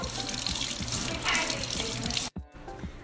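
A kitchen sink tap runs for hand washing, a steady loud splashing stream that briefly cuts out near the end before flowing again.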